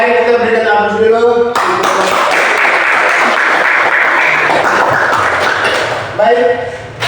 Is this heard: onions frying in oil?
no